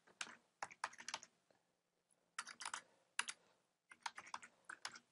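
Bursts of rapid keystrokes clatter on a computer keyboard, coming in several quick runs with short pauses between them, close and fairly quiet.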